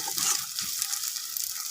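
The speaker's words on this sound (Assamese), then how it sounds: "এয়া মোৰ পিঁয়াজখিনি ভজা হৈ গৈছে।" Onions frying to a reddish brown in a pan for koldil, a steady close sizzling hiss with faint soft bumps underneath, no voices.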